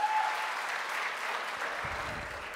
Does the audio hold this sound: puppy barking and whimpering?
no